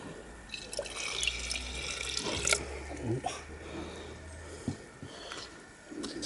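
Gold recovery solution trickles and splashes into a jar with uneven gurgles and small drips, fairly quiet and close.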